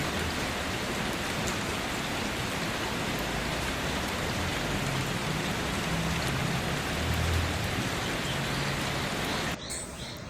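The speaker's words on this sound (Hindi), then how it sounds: "बारिश खूब तेज़ तेज़ वाली बारिश आई हुई है" Heavy rain pours down steadily in a dense, even hiss of drops hitting surfaces, continuous and loud throughout with no talking.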